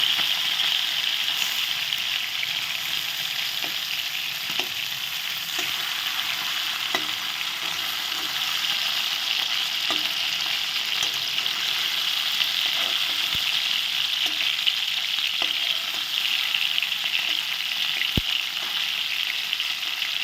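Steady, continuous sizzling of boal catfish heads frying in hot oil, with faint scattered pops and crackles throughout and no voices.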